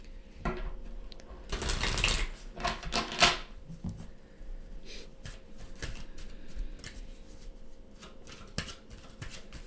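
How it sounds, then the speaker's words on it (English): Oracle cards from the Divine Feather Messenger deck being shuffled and pulled, with brisk papery riffles and slaps in short bursts followed by softer scattered card handling. "I am pulling oracle cards for each group from the Divine Feather Messenger deck"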